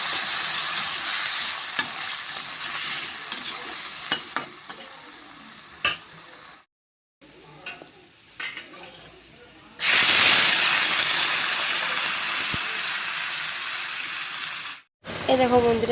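Fish curry cooks in a pan with a continuous frying sizzle and hiss, broken by occasional stirring clicks, a couple of abrupt silent gaps, and a much louder surge of steamy hissing partway through.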